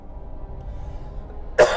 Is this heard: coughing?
yes